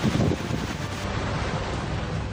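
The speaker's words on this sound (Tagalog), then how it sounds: "Ganito kalakas ang ulan at hangin dala ng bagyong Paulo nang maglandfall ito sa Dinapigue, Isabela kaninang umaga." Strong wind and rain from typhoon Paolo at landfall in Dinapigue, Isabela, a steady broadband roar with gusty buffeting against the microphone and no voices.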